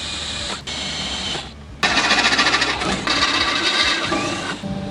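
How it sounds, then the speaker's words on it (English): A power drill bores holes through a car's radiator support during an engine swap on an XF Ford Falcon, a close, loud, harsh grinding whir in bursts separated by short pauses. "So drill 2 holes through the centre of the radiator support here, 2 through the radiator itself"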